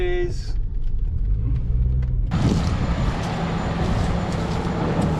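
A wrecked salvage-auction Porsche Boxster S drives in, its engine and tyre noise swelling into a loud, steady roar after a quieter start, with voices faintly underneath.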